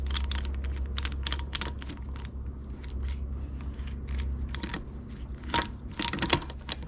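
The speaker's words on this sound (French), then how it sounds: "Donc pour décoller le roulement, moi j'utilise ça comme outil." Metal clicks and rattles come in irregular bursts as a tool is fitted to pull a bearing off a Peugeot 102/103 moped engine, close up over a low steady hum, with no talk.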